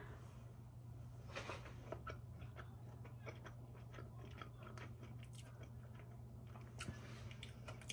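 Quiet close chewing during a chipotle sauce taste test, with soft crunching bites and wet mouth sounds over a steady low hum.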